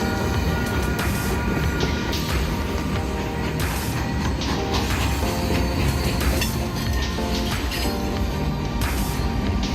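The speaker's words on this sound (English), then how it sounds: "the military train pulled heavy M1 Abrams and a fleet of massive Bradley tanks" A military freight train hauling heavy M1 Abrams and Bradley tanks rolls along snowy rails with a steady, loud, continuous rumble of wheels and wagons, marked by occasional metallic clanks and squeals throughout.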